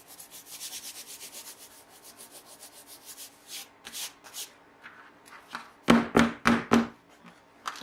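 Dried masking fluid rubbed by hand off watercolour paper: a steady run of dry, scratchy brushing strokes, close and fairly quiet, ending in a few louder, sharper rubs and scrapes.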